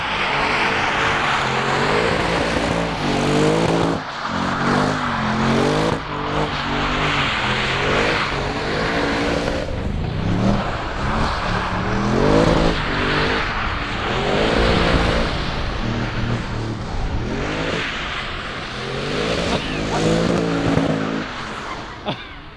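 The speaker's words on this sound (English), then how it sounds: "Gustav, I thought we should try at least to see if this car will slide. Will it drift?" An Audi RS7 being driven hard in a slide, its engine revving up and down in loud repeated surges with shifting pitch, close and continuous, occasional tyre noise underneath.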